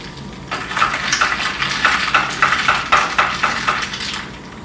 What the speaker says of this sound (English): Just give those a quick stir.